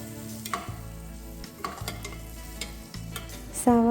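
Curry leaves hit hot oil in a pan for mutton kurma, crackling and sizzling steadily while a spoon scrapes and stirs in irregular strokes, with a brighter burst of sizzle near the end.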